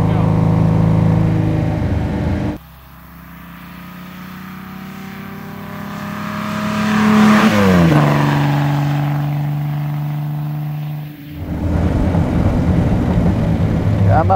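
A 1938 BMW 328 Roadster's engine drones and rises in pitch as the car accelerates, then eases off, heard from inside the open car with people talking before and after.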